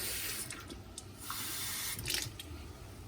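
Water streams steadily from a kitchen tap, a soft continuous hiss with a few small splashes and clinks, close by and fairly quiet.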